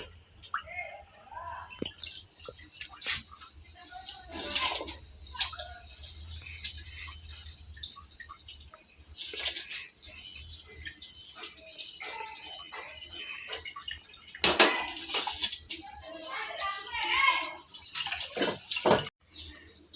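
Soaked rice is tipped into a pot of boiling water for bagara rice in a home kitchen, giving intermittent splashes and wet pours with drips, loud and close, over a steady low bubbling.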